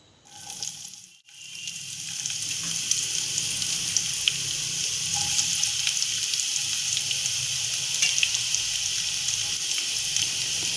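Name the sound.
chopped onion frying in pan for chana masala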